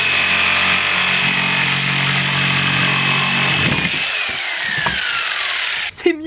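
Power saw cutting through a wooden batten laid across two crates, a loud whining cut that drops in pitch as the blade slows and winds down near the end.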